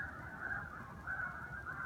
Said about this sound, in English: There's a farmer's down the road that raises geese, and they're all stirred up, so you'll hear them quacking in the background.